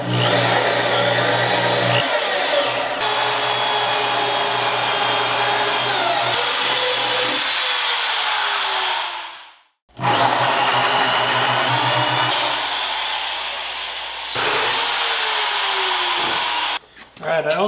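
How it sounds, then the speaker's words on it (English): A power drill bores a lockset hole through a front door with a pilot bit, whining steadily in long runs that cut out briefly near the middle and again at the end, loud and close. "So I'm going to drill this guy out"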